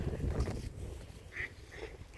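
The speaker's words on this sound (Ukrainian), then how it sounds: "Так, полетіли дикі качки." Faint quacks from wild ducks taking off, two or three short calls, heard over low rumbling background noise outdoors at a country garden plot.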